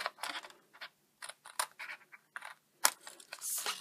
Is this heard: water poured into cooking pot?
no